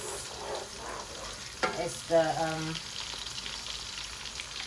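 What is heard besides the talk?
onions frying in hot oil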